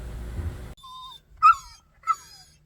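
An old dog whimpers nearby in a quiet room, giving a soft rising whine followed by two sharper high yips, clear and close with no talk.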